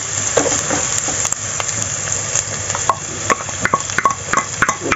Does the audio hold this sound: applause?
no